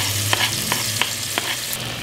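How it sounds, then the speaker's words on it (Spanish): Onion and chili sautéing in a pan make a loud, steady sizzle, with several light stirring scrapes spaced through it; no talk. "Vamos a echar aquí a sofreír esto."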